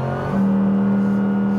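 A Mercedes-AMG GT3 race car accelerates at full throttle on a track, its loud engine note stepping up into a sustained, rising drone heard from close by.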